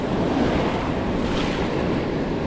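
Surf waves breaking steadily along a Southern California fishing beach, a continuous loud wash of broadband noise with wind buffeting the microphone and no distinct individual crashes.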